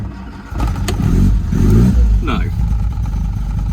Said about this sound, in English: Do my high beams work now the engine's started?